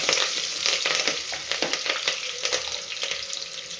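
Garlic, green chilies and curry leaves sizzle in hot oil while a spoon stirs them, a close, steady crackling hiss broken by scraping strokes against the pan.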